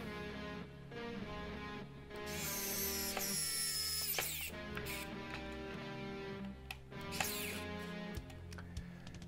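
A small power screwdriver whirs in short bursts, driving screws into plastic Eaglemoss Ecto-1 model parts, with clicks and handling noises between runs, close and fairly quiet.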